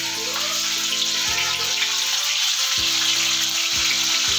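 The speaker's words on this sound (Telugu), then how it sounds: "ఇప్పుడు మిగిలిన చేప ముక్కల్ని కూడా అలానే సేమ్ ఫ్రై చేసుకుందామండి." Fish pieces sizzle steadily in a pan of hot oil, a continuous close hissing crackle that holds throughout, with a low tonal hum starting and stopping underneath and no talking.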